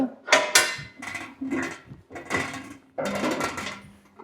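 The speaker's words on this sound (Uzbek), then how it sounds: "Qozonimizni qo'yaveramiz." A series of clanking metal knocks and scrapes as a qozon cauldron is set and shifted on a stove, five or six bursts in quick succession.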